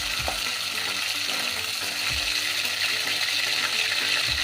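Prawns frying in hot oil give a steady, loud hiss, with a few dull knocks of stirring now and then.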